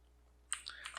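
Quick bursts of typing on a computer keyboard, several close, crisp key clicks in an uneven run after a brief quiet start, with no voices.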